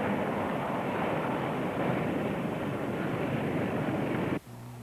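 Light Commander airplane touching down on a runway at dusk, a steady loud engine and wind roar that suddenly drops to a low idle hum as power is cut near the end.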